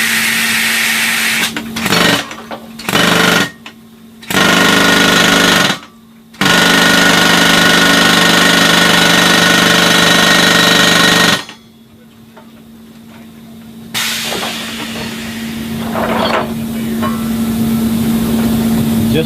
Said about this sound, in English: he's going to be hooking it up to the jackhammer now, the pneumatic hammer.